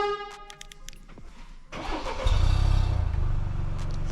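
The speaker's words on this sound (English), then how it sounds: "we're gonna do a quick remote start" A 2024 Ford Escape ST Line fires up by remote start, a short cranking burst catching into a steady, moderately loud idle close by after a few quiet beeps and clicks.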